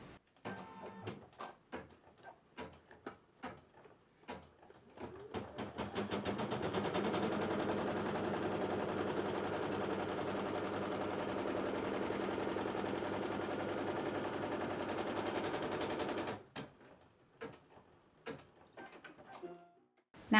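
A multi-position hooped embroidery machine stitches a first outline, a steady dense whirring run of about eleven seconds between scattered clicks and taps, loud and close with no talking.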